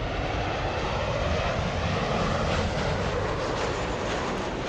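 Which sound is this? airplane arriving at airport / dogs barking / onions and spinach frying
airplane arriving at airport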